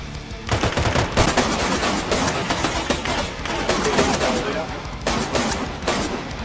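Bursts of gunfire in the survival video game DayZ, with dense repeated shots and rapid volleys filling the whole stretch, loud and close.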